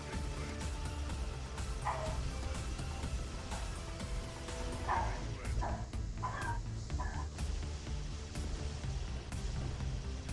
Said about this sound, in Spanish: De repente ladran y ladran los perritos.